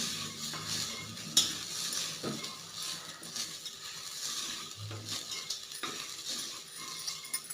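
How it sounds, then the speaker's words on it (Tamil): A spoon stirs grated coconut with salt in a hot pan, scraping and clinking steadily against the metal over a soft sizzle, with a few sharper knocks, close by and free of talk. "உப்பு போட்டு இப்போ நல்லா கிளறி விடலாம்"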